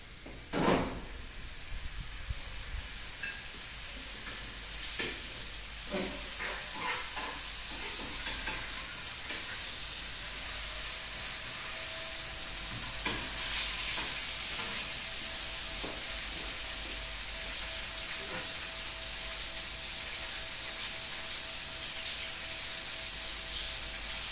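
Food fries in a pan at home, a continuous hiss and sizzle with scattered crackles and a few sharp clicks of stirring, heard alone without talk.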